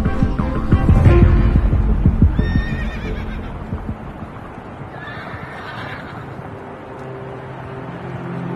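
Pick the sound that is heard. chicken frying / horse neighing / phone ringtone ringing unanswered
horse neighing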